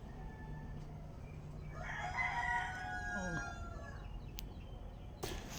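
A native rooster crows clearly in the middle distance over steady background noise, followed by a sharp clatter near the end.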